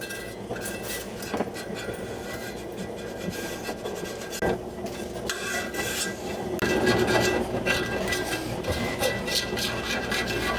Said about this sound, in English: I'm using a scraper.